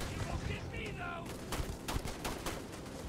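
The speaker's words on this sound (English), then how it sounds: "Oh, it's a turret." Turret gunfire in the space video game Starfield: dense, continuous rapid shots with sharp repeated cracks, packed into a steady roar amid game noise, without clear speech.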